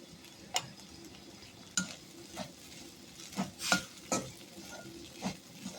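A drumstick-leaf egg scramble with grated coconut being stirred and flipped in a pan, giving quiet, scattered scrapes and clicks of a spatula over a faint sizzle.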